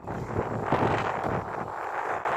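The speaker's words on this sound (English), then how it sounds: "It's pretty windy here." Wind blows outdoors against a phone microphone, giving an uneven, rumbling buffet that rises and falls in gusts and stays fairly loud throughout, with no speech.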